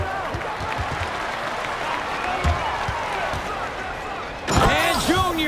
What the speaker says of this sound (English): And Junior throws it down